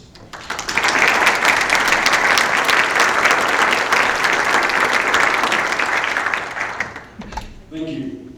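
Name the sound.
audience applause welcoming debate candidates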